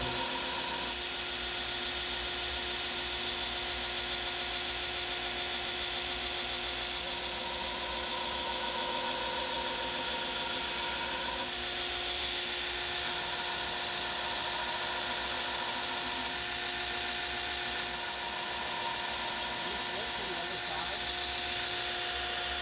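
A power grinder works steadily on a steel knife blade, giving a continuous high whine with a faint rasping edge, while a person talks over the machine at times.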